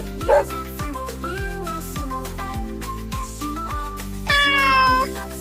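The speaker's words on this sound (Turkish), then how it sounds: "Kedi." A cat meows twice, a short cry near the start and a longer, higher meow near the end, over a steady bouncy music backing.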